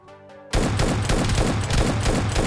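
Gunfire erupts in the PUBG Mobile Lite video game, a rapid burst of repeated shots that starts abruptly after a brief quieter lead-in and continues loud to the end, with no talk.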